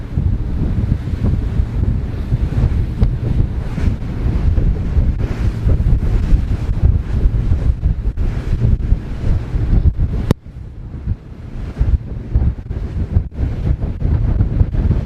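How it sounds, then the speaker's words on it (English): Strong wind buffets the microphone aboard a Trader 535 Sunliner motor cruiser at sea, a loud continuous low rumble with gusty surges and a brief dip near the end, no voices. "So that wind seems to have got up far more now."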